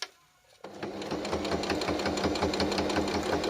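A sewing machine stitches hand grips for a disability walker, starting after a brief quiet moment and then running in a steady, fast, rhythmic whir and clatter close by.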